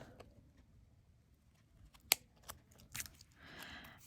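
Faint, sparse snips and clicks of glue-coated scissors trimming excess metal tape, a few sharp cuts standing out against quiet background rustle, close by.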